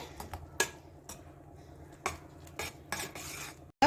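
A spoon scrapes and clinks against a pan on the stove while carrot paste is stirred, producing several distinct sharp metallic taps and scrapes at irregular intervals over a soft background.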